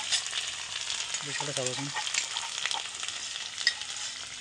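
Ginger, garlic and green chillies frying in hot oil give a steady crackling sizzle throughout, while a person speaks briefly in the middle.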